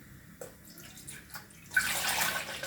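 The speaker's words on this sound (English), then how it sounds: "We can add some water again" Water splashes and pours steadily into a pot of cooking kadhi made with gram flour, a close, fairly quiet stream following a few soft kitchen knocks.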